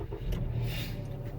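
A Dodge Journey with a 62TE transmission fault and its check engine light on runs and revs with a dense, continuous low rumble, close and alone, with no one talking.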